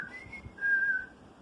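A single person whistles a steady tune, the pitch holding then stepping slightly higher in a brief sustained note, clear and close over a quiet background.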